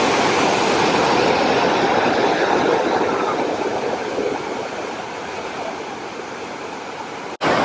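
Iguazu Falls in the dry season gives off a loud, continuous roar of falling water that fills the air, steady and broadband, easing slightly toward the end.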